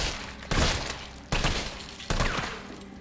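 Three heavy video-game gunshots from Resident Evil 3, evenly spaced about a second apart, each a loud close blast that decays into a rumbling tail, with no talking.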